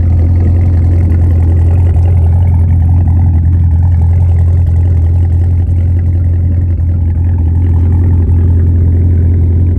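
A Camaro SS/ZL1 V8 fitted with a Stainless Works axle-back exhaust idles loud and close, a deep steady rumble that holds without change throughout.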